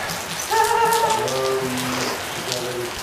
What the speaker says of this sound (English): rain's dying down